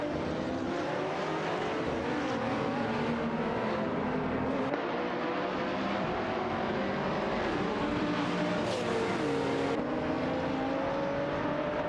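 GT race cars, a Panoz Abruzzi GT2, Lamborghini Gallardo GT3, Seat Cupra GT and Nissan 350Z GT300, racing in a video game: layered engine tones rise and fall in pitch as cars shift and pass, a continuous mid-level drone.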